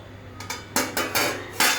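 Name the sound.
washing dishes in a bowl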